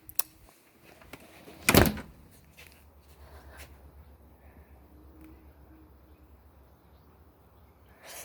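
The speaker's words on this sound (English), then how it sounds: "Let me close the door." A door closing indoors in a home, a single loud thud followed by quiet room tone with faint rustling.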